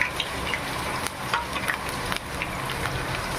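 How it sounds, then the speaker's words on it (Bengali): Whole cumin and dried red chillies sizzle in hot mustard oil in a kadai, a soft steady crackle with light scraping as they are stirred, close and alone. "গোটা জিরে, শুকনো লঙ্কা, একটু নেড়ে চেড়ে নিলাম।"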